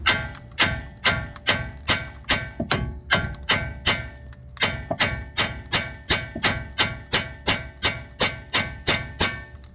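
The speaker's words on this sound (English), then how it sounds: "we take our hammer and we want to hit" Steel hammer repeatedly striking the outer tie rod end on a 2011 Kia Optima EX, a steady run of sharp metallic blows about twice a second, close and loud, with a brief pause midway.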